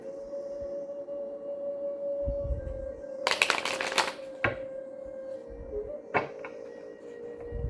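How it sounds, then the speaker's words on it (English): A deck of cards being shuffled indoors: a dense riffle lasting about a second, then a few short, sharp snaps and taps of the cards, moderately close over a steady low hum, with no talking. "I'm just going to do a couple more just so you guys can see that I've done my shuffles"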